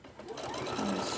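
A sewing machine runs continuously, stitching fabric for a mat with back stitches, its steady motor whir close and loud across the whole short stretch.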